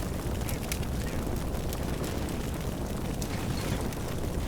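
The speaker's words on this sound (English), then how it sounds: "Already taking gunfire." Gunfire in the wargame Combat Mission Shock Force 2, with Marines drawing fire from a building in an urban fight: a dense, steady roar of distant shots and blasts that never lets up, with faint sharper cracks along the top.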